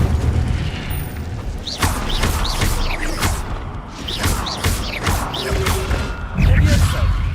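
Incendio fire spells cast in the Hogwarts Legacy video game, a run of sharp whooshing bursts and booming impacts repeated several times over a dense rumbling battle backdrop, with a voice speaking briefly.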